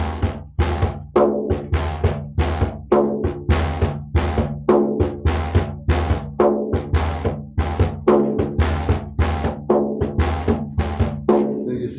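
A frame drum played alone in a steady lilting 6/8 pattern, with deep resonant bass strokes alternating with sharper rim slaps, close and clear throughout.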